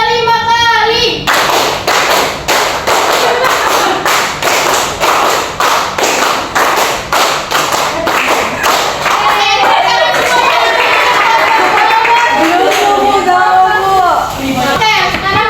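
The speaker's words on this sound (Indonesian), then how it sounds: "tepuk lima kali." A fifth-grade elementary class claps a rapid series of sharp, loud hand claps in a classroom, a dense run of beats followed by children's chattering voices.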